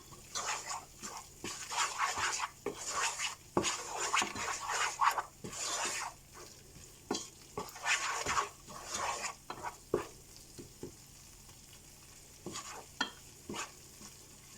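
Spiced catfish and papaya curry is stirred in a pan, with irregular scraping strokes and a soft frying sizzle underneath, close and moderately loud, pausing briefly between bursts.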